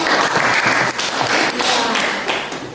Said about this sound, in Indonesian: Tepuk tangan dulu untuk Amos.